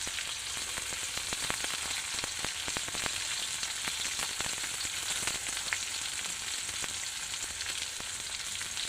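Chopped onions fry in hot oil toward a reddish brown, a continuous moderate sizzle peppered with many sharp crackles and pops, near and unbroken, with no talking.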